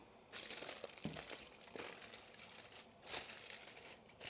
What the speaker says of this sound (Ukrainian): Тепер я знизу знімаю фольгу.